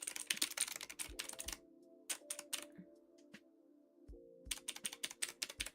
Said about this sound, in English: you can always hear when I'm typing.